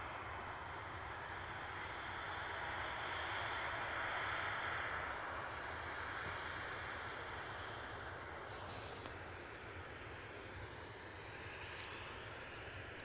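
EasyJet airliner approaching Edinburgh Airport runway from out over the Firth, a steady distant jet roar with broadband wind-like rush, rising slightly midway and holding through.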